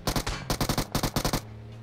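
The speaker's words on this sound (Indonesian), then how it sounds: "Ini tembakan." Rapid bursts of gunfire from an online shooter game, several quick volleys of close, loud shots in clusters, then a sudden stop into quiet background.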